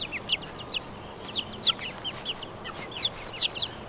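Soft clucks and short chirpy calls from a chocolate Orpington hen repeat close by at an irregular pace over a quiet background hiss.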